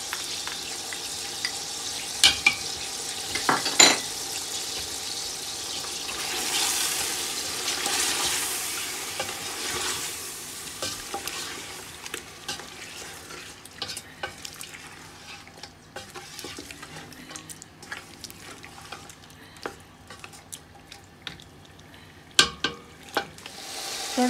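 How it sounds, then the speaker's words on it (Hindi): Goat meat frying in a pan with red chili powder and crushed chilies, a low continuous sizzle broken by scrapes and clatters of stirring, fairly quiet and close with no talk. "थोड़ा थोड़ा पानी डाल के इसे भूनेंगे"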